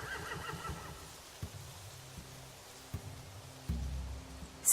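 A horse whinnies at the start in The Walking Dead video game, a faint high neigh fading out, followed by soft thuds and shuffling movement in a quiet night setting.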